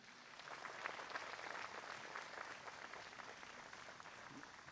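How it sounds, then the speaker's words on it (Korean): Applause at the 77th Liberation Day ceremony welcoming para-athlete Lee Seung-min: steady, sustained clapping from a large audience, moderately distant and even throughout. "여러분 큰 박수로 환영해 주시기 바랍니다"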